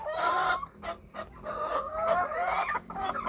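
Backyard chickens cluck and squawk close by in a short, uneven run of calls, with a rooster-like crowing note woven among them and no talk.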